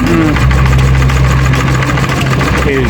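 An old engine that sat disused for 25 years in a chicken shed runs with a steady low rumble and rhythmic knocking, loud and close, while people talk over it.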